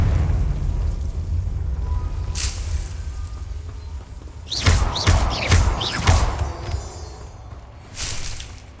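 A Confringo blasting curse goes off in Hogwarts Legacy with a cluster of loud, booming bursts and crackling pops in quick succession over a low game rumble, followed by a fainter thud.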